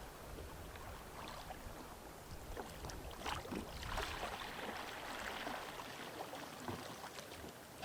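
Kayak paddled through cold sea water: soft, steady water swishing and gentle splashes with a faint wash of wind, low and continuous.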